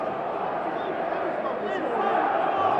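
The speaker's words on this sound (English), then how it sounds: "You can hear the howls. You can hear the boos from the crowd" A football crowd at Coventry City v Hull City howls and boos, a steady dense roar of massed voices that grows slightly louder toward the end.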